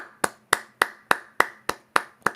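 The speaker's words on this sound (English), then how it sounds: "Golf clap." Eight slow, evenly spaced hand claps, roughly one every third of a second, crisp and close with no talking, a deliberate golf clap.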